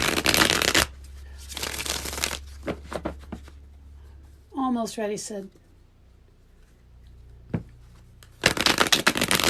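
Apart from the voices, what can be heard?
tarot cards being shuffled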